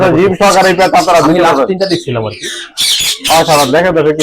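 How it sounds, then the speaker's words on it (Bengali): Ringneck parakeets at a parrot farm let out loud, harsh squawks in repeated bursts, close by and overlapping, with brief gaps between calls. "সুন্দর সুন্দর রিং নেক টিয়া পাখি"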